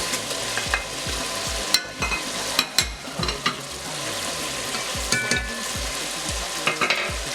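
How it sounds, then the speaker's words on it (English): Stockfish goes into a pot of Yoruba efo riro vegetable soup on a low flame, giving a continuous sizzle under repeated sharp clinks and thuds of a spoon against the pot, heard up close. "You add your stock fish to the pot"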